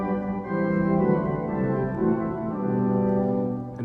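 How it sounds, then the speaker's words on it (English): Chancel organ playing its stopped diapason and viol stops together: sustained, rich chords held steadily and moving slowly through a few changes, filling the space at even volume with no voices. "with the stop diapason and the viol"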